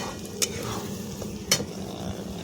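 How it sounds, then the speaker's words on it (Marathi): Mutton sizzles steadily while being sautéed in masala, a continuous frying hiss with two sharp stirring scrapes against the pan. "बघा मटण मस्त परतून घेतलेलं आहे मसाल्यामध्ये"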